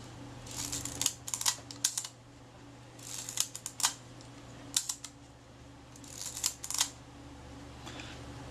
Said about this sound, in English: As you can probably hear, that shutter's working well.